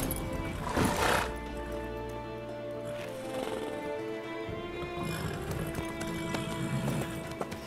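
Horse neighing in Witcher 3, a loud whinny near the start followed by further snorts and clip-clopping hooves with game ambience throughout, no speech.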